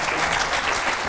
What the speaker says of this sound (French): on remercie, on applaudit Jérôme Bonaldi.